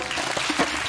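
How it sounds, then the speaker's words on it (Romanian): Brief burst of audience applause after a call to cheer a performer during a stand-up comedy set on a stage, a dense wash of clapping lasting under a second, moderately loud. "Bineînțeles, normal, aplauze pentru Delia."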